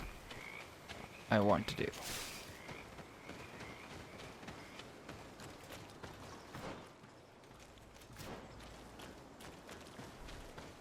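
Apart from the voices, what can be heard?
frogs croaking in video game GreedFall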